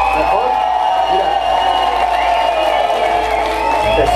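Loud crowd noise at a rap concert on stage, a dense sustained roar of applause and cheering with scattered whoops, with a voice carrying over the audience throughout.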